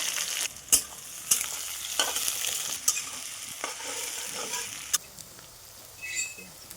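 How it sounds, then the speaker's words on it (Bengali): Chopped onions with a bay leaf and a dried red chilli fry in hot oil in a pan, heard as a steady crackling sizzle broken by occasional sharp clicks of a spoon against the pan. "শুকনো লঙ্কা দিয়ে দিচ্ছি কুচানো পেঁয়াজগুলো"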